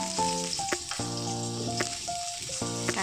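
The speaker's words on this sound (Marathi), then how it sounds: "आता तेल छान गरम झालेलं आहे आता आपण कांदा टाकूया" Chopped onion sizzles in hot oil in a pan for a tomato and onion chutney, a steady close crackle that runs throughout with tonal background sounds over it.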